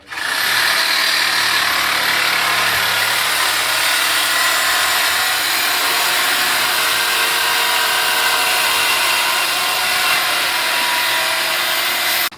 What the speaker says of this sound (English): He's gonna go in with the saw.